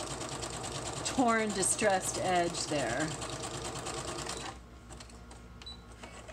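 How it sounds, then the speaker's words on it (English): A sewing machine stitches junk journal paper in a fast, steady mechanical whir that runs for several seconds while a person talks over it, then stops, leaving a quieter room. "I love the sewing machine because I just have to push a button and it cuts it"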